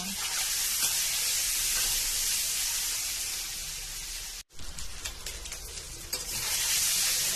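Egg and papaya fry and sizzle in a pan while being stirred, a steady close hiss with scraping stirs throughout and a brief break midway.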